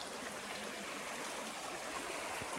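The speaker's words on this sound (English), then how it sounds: "But right here, nice little creek, Dismal Creek, I think it's called" Dismal Creek flowing beside the Appalachian Trail: a steady, soft rushing and trickling of water that holds constant throughout, heard at low volume with no voices.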